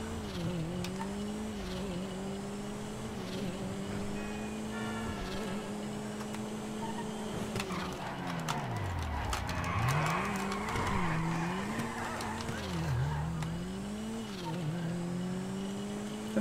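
Futo sports car driven in GTA5, its engine droning and rising and falling in pitch through gear changes and revs, with tire squeal during turns, heard at moderate level with no voices.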